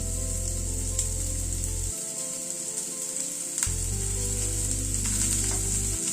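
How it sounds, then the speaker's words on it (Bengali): Chopped onions frying in hot white oil in a pan on a gas stove, a bright continuous sizzle with occasional stirring clicks, close and steady, over a low mechanical hum that drops out briefly midway. "পেঁয়াজটাকে প্রথমে একটু হালকা করে ভেজে নিচ্ছি"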